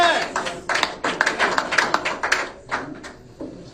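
Scattered audience clapping at a press briefing, irregular claps from a modest crowd that thin out toward the end, with some voices mixed in.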